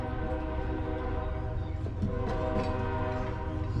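A train passing near a yard with its horn blowing, a sustained, tonal, layered blare over the low rumble of the rail cars, fairly faint and steady throughout.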